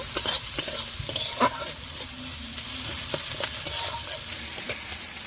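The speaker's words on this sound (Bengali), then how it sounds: "এই রসুন দিয়ে দিচ্ছি এই আদা দিয়ে দিচ্ছি দিয়ে একটু নেড়ে দেব" Garlic and ginger sizzle in hot oil while a spoon stirs them for a river pangas fish curry, with steady frying crackle and a few sharp scraping clicks against the pan. No voices.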